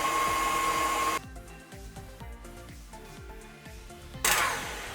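An electric mixer creams eggs and creamy peanut butter for a PB&J cheesecake, its motor whirring steadily up close with a rhythmic pulsing churn, the pitch and load shifting partway through before surging louder at the end.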